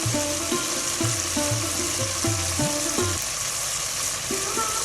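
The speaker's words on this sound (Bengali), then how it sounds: "এই মশলাগুলো ভালোভাবে আমি কষিয়ে নেব" Ginger-garlic paste and turmeric frying in oil for a bottle gourd greens and potato dish give a steady bright sizzle, with rhythmic spoon or pan knocks through the first few seconds.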